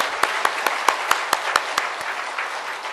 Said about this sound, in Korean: 박수 확실히 치시길 바랍니다.